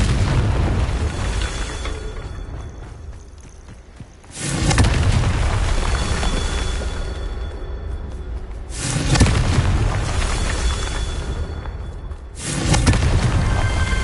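Confringo fire spell explosions in Hogwarts Legacy on PS5 go off as four heavy, booming blasts roughly every four seconds, each followed by a rumbling tail over continuous game sound.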